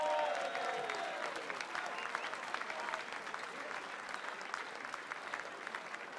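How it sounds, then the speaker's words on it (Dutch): A crowd at a carnival award night applauds steadily for several seconds, a dense wash of clapping with brief voices near the start. "Een groot applaus voor al deze kanjers."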